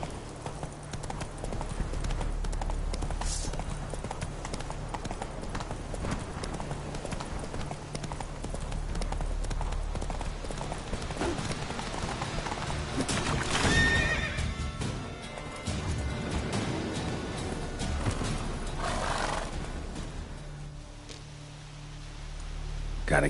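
A horse in The Witcher 3 gallops with a fast, steady clip-clop of hooves and gives loud whinnies, while characters talk over the hoofbeats.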